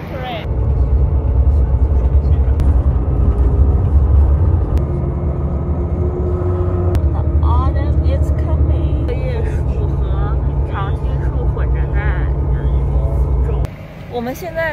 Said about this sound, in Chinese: 我们现在要坐 Rim Shuttle 的车从 South Rim 到 North Rim，是一个非常大的大巴